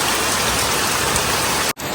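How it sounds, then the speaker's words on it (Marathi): Steady rain in a village setting, a dense continuous hiss of drops on surfaces, close and fairly loud, cutting off briefly near the end before resuming. "रिमझिम मौसम है."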